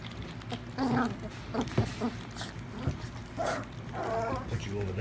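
Several puppies whimper and yip softly at their first meal, small whines mixed with feeding noises while a person talks over them.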